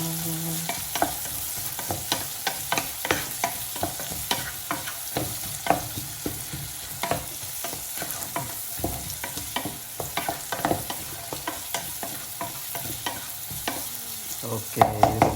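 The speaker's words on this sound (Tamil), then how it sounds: "ஓகே, இது கொஞ்சம் நேரம் வதங்கட்டும்." Food sautés in a pan with a steady sizzle while a spoon scrapes and stirs in irregular knocks and clatters, close and fairly loud, with no talking.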